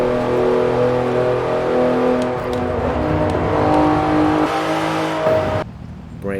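A Porsche 911 Turbo S engine drones steadily from inside the car while driving, a loud harmonic hum that rises slightly before dropping away near the end.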